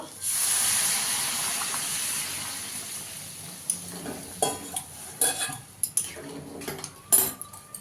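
Hot water poured onto basmati rice being fried in a pot for masala khichdi, a loud steaming hiss at first that fades into gentle sizzling with scattered clinks of a spoon stirring.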